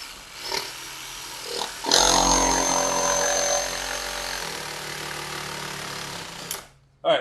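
A variable-speed Worx jigsaw is eased on slowly to start a cut in wood, its motor buzz rising as the blade begins scribing, then running steadily under brief talk before cutting off.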